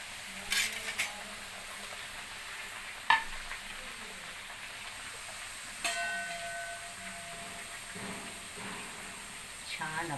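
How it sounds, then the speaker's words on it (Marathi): Jaggery and jackfruit puris fry in hot oil with a soft, steady sizzle, broken by occasional sharp metallic clinks of a utensil against the pan, heard fairly close and quietly. "त्याच्यामध्ये आपण आता आपल्या या पुऱ्या तळून घेऊयात."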